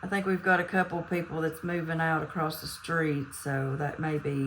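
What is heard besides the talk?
No distinct noise like a dog, phone or traffic.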